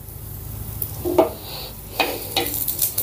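Cumin seeds fry in a tablespoon of oil in a pan, a soft crackling sizzle with a few sharper spatters and stirring scrapes, fairly quiet and with no talk.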